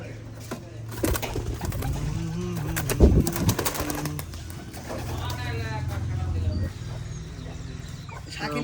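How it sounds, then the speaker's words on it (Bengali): Pigeons inside a coop in a Bangladeshi village in Alamdanga, Chuadanga, give low, rolling coos while people talk over them nearby. "সুন্দর একটি কবুতরের খোপ, ভিতরে কবুতর আছে।"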